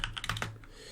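Quick bursts of keystrokes clatter on a computer keyboard during Go programming, several sharp clicks in rapid succession then a brief pause, close and fairly quiet.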